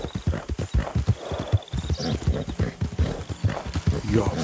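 Horse hooves clip-clop in a quick steady rhythm, close and loud, in Red Dead Redemption 2, with a brief whinny woven in among the hoofbeats.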